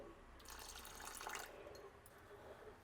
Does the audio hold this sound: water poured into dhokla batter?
yes